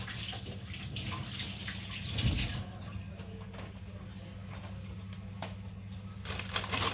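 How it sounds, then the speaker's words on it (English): Hands being washed under a running kitchen tap, a soft steady stream of water with light splashing and rubbing, fairly quiet and close. "And then wash our hands."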